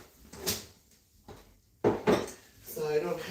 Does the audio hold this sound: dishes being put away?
yes